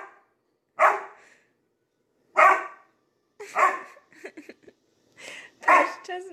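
A dog barks four or five times in separate loud, close bursts with short quiet gaps between them, with a little softer vocal noise in between.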